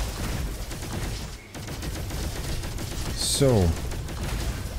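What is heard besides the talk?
Cosmo gun firing in the video game Roboquest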